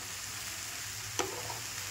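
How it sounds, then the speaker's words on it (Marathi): Vegetables for a Bhogi mixed-vegetable bhaji sauté in a large kadhai, a steady close sizzle of frying broken by a single brief clink of stirring, with no talking. "भाज्या छान परतवून घेऊयात"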